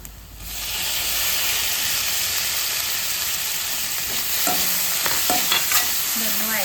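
Chopped tomatoes and onions sauté in a hot pan for a vendakka (okra) curry, a steady close sizzle and hiss with a few sharp scraping stirs near the end, no voices.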